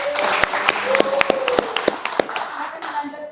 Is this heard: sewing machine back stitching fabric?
no